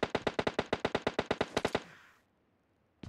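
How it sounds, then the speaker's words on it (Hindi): Rapid automatic gunfire from PUBG, a fast even burst of about fifteen loud shots over nearly two seconds, then a short fading tail and quiet. "मैं उसका ध्यान थोड़ा डिफ्लेक्ट कर रहा हूँ गोलियां चला चला के"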